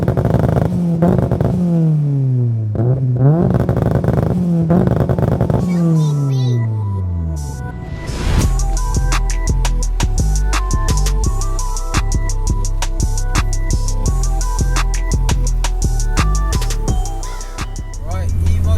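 A 630 bhp Mitsubishi Lancer Evolution VI engine revs loudly in rising and falling sweeps, then settles into a steady, dense drive with strong low rumble and clattery mechanical detail, close to the listener.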